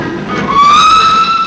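A 1953 steam passenger train, the 9:17 to Sheffield, pulls out of York station with a loud, rising whistle that holds steady over a rumble of moving wagons, close by and without talk.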